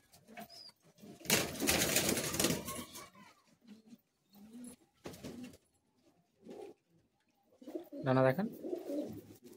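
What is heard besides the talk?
pigeons cooing in a loft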